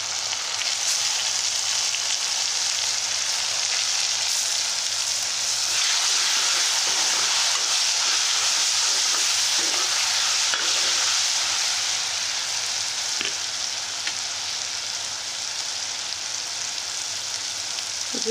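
Tomatoes fry with onions in a hot pan, giving a continuous steady sizzle and hiss that runs unbroken, with occasional faint clinks of stirring.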